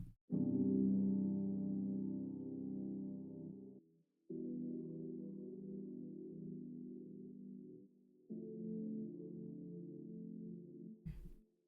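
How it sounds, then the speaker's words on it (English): Electric piano sustaining low bass chords in three long held sections separated by short gaps, warm and steady with no other instruments or voices, ending on a brief click. "And then this electric piano that's kind of sitting under it."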